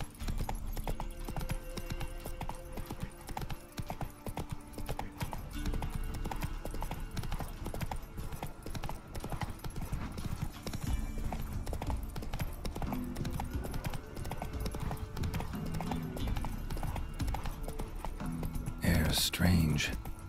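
A horse's hooves clip-clop at a steady trotting rhythm while it is ridden in The Witcher 3 video game, layered with other dense game sounds.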